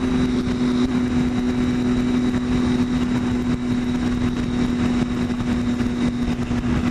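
A motorcycle cruises at 55 mph with a steady, droning engine hum and rushing wind, constant and unbroken throughout, no voices.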